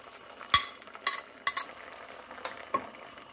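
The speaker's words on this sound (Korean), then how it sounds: "뚜껑을 열고 마늘을 넣어줄 거예요" A metal pot lid lifts off a boiling pot of cucumber namul and garlic drops in, giving a few sharp close clinks and clatters spaced over a low steady background.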